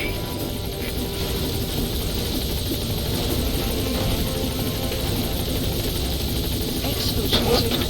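A helicopter arrives at a landing zone in Metal Gear Solid V, with a steady loud rotor roar and a rise in whine near the end.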